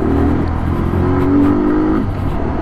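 A 2020 Kawasaki Z125 Pro SE motorcycle accelerates up close, its small engine note climbing in pitch with a steady buzzing drone before dropping back as it shifts, with wind noise around it.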